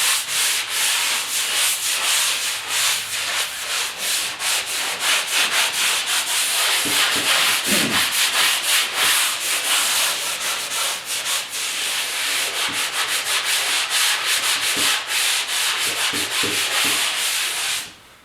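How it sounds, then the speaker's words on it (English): Light hand sanding of drywall joint compound over a patched hole in a wall makes a continuous loud scratchy rubbing that runs steadily for the whole stretch, with no voices. "I'm just going to give it a nice light little sand, not too much."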